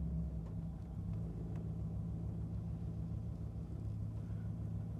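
Engine of a 1987 Pontiac GTA Firebird idles at about 800 RPM as it backs out of a showroom, a low, steady rumble heard fairly faint and continuous with no talk.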